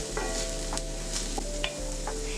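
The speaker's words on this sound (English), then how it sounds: "Once warm, add in the chopped onion and sauté until soft and golden." Chopped onion sautéing in a little warm oil in a pan, a steady close sizzle with occasional stirring scrapes and clinks of a utensil throughout.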